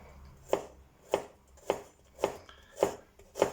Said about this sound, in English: I will start off by chopping up a bit of garlic